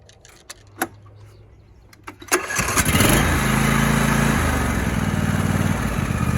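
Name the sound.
John Deere E140 lawn tractor engine running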